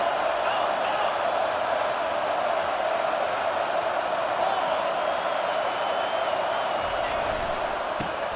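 A packed stadium crowd at a Missouri vs Miami football game roars in a steady, dense wall of noise that holds at full volume without a break, with a few faint whistles and shouts near the end.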